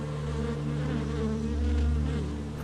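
Honeybees buzz steadily around open hive frames at a Carpathian apiary, a dense close drone sustained throughout at even loudness with no talk.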